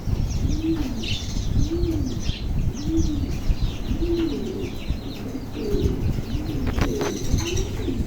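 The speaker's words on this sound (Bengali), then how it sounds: "দুই জোড়া কবুতর আছে" Pigeons at a pigeon seller's in Kushtia coo in a steady, repeating rhythm, with brief wing flaps and scattered chirps close by.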